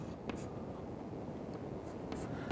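Chalk or a marker scratches faintly on a lecture board as an equation is written. A few soft strokes sit over a dull room hiss.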